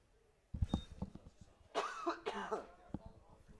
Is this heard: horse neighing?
no